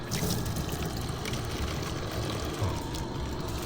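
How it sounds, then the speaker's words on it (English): A gallon of water pours into a jug while mixing foam brush car wash concentrate, a steady rushing splash that stays loud and continuous throughout. "And then we need to add another gallon of water."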